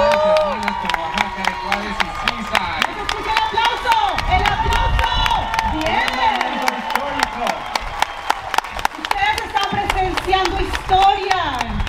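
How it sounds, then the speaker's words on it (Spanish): A crowd at a sister-city celebration between Oaxaca de Juárez and Seaside applauds and cheers, scattered clapping and whoops running beneath loud voices and music throughout. "¡Que se escuche el aplauso!"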